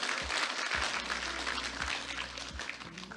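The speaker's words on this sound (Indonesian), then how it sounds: "Tepuk tangan untuk sampean semuanya" Applause rises from the crowd at an entrepreneurship community gathering, a steady wash of many hands clapping, with several low thumps breaking through now and then.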